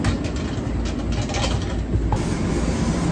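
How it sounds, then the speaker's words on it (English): Train riding on rails into New York City, a steady close rumble with broad rattling noise running throughout, no talk. "we gotta catch a train into the city"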